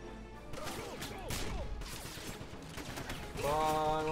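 Rapid gunfire crackles from a gun in a Wolfenstein shooter, fairly faint bursts mixed with game effects and a tonal sound near the end.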